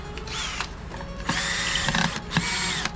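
Screws being backed out of a failed Klipsch ProMedia THX 2.1 computer speaker system's amplifier unit, with close, loud bursts of a power driver whirring in short runs and brief pauses between them.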